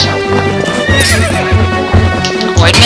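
A horse in a video game neighs loudly over rhythmic clip-clopping hooves, the whinny shrill and close amid busy game sounds.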